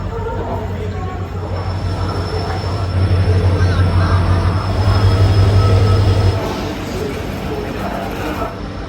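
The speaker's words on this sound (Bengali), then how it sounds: "চলে এসছে আমাদের ট্রেন" The Shalimar Gorakhpur Express pulls into a station. Its heavy rail rumble swells loudly midway and then eases off, with a thin high squeal running over the top.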